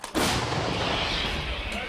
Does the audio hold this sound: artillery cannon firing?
yes